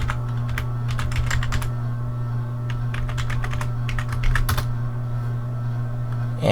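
A computer keyboard clicks in quick, irregular bursts as a password is typed to log into a WordPress admin panel. The keystrokes are close and clear over a steady low electrical hum.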